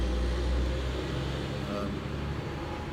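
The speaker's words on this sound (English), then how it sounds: "Big trucks are going by" Big trucks rumble past nearby in a steady, heavy roar of engine and road noise that stays loud throughout, with no pauses between passes.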